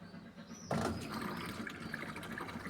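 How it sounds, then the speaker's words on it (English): A Beko washing machine drains its water, starting with a sudden gush that settles into a steady rushing, gurgling flow through the drain hose, moderately loud and close, with no voices. "Now it drains the water."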